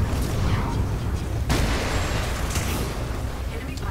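A loud, booming blast of a charged super shot from the Northstar titan in Titanfall 2, with a sharp burst partway through, dense and rumbling.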